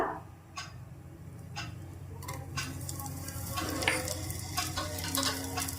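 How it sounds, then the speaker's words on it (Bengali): Grated ginger sizzles in melted butter in a pan for tomato soup, a low, steady frying hiss that grows slightly louder, broken by a few sharp spoon taps and stirring clicks. "বাটারটাকে একটু গলিয়ে নিচ্ছি দিয়ে দেব গ্রেট করা আদা"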